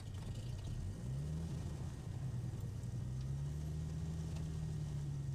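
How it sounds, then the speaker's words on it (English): Simulated engine of a Mooney M20R Ovation light aircraft in a flight simulator game running up from start, a steady droning rumble whose pitch rises and holds, with no talking. "So I'll turn the engine on."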